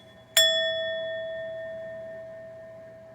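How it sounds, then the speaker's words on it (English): A bell is struck once, close and clear, and its bright metallic tone rings on and slowly decays through the rest of the moment. "Ring the bell."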